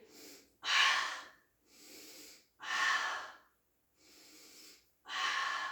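A person exhales forcefully through the nose and mouth in a Pilates ball class, six breaths alternating softer and louder, regular and close, with no talking.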